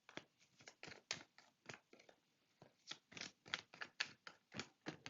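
A deck of tarot cards being shuffled during a live card reading: rapid, faint papery riffles and slaps in an irregular stream of crisp bursts, close by with no talk over them.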